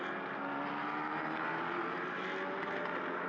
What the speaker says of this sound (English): Got some fantastic sounds coming from all of these cars.